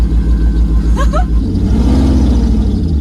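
A car pulls away in first gear with a steady, close engine rumble and low drone, plus a brief rising whine early on.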